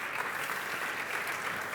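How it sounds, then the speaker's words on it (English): Steady, dense applause from a conference audience at hub.berlin, an even wash of clapping filling the hall without pause. "A big round of applause for Sven."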